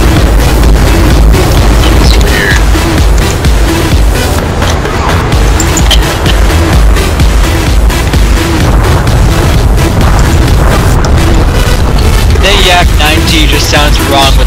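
Loud, dense tank combat in War Thunder with heavy booming cannon fire and rumbling engines, sustained and close throughout, with occasional voices underneath.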